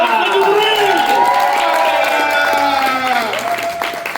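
An audience greets a comedian at a comedy festival with loud, continuous applause and cheering, while a voice speaks over the clapping.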